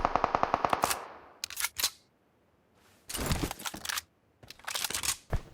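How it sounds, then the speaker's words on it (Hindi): Gunfire from a PUBG match on the Erangal map: sharp, rapid automatic bursts, close and loud, separated by short silent gaps, with one bout of fast evenly spaced shots at the start. "मेरे पे कुछ फायरिंग होती है।"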